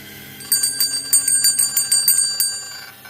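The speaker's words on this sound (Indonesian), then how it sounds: "Suara lonceng kedua terdengar keras." A bright metallic bell rings in a rapid series of about a dozen strikes, loud and close, over a low background hum.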